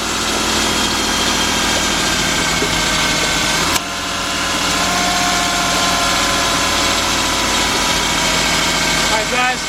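A Ford engine idles steadily while warming up after a water pump replacement, with a constant loud hum and a brief dip in the middle. No one speaks over it.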